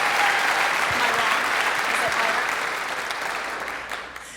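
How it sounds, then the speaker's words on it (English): An audience at a youth sports awards ceremony claps in a dense, steady round of applause that is loud at first and tapers slightly toward the end. "that deserves a round of applause"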